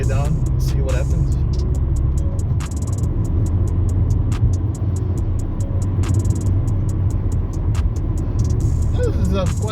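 A Ford EcoSport 1.5 Ambiente's engine pulls steadily after a downshift, a loud, continuous low drone heard from inside the car with road noise, and no talking over it.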